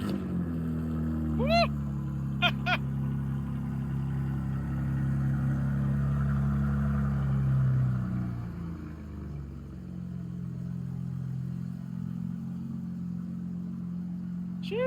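A 2025 BMW M4 CS engine idles with a steady low droning rumble throughout, a brief rise in revs partway through before settling back to a smooth idle, with a person whooping near the start.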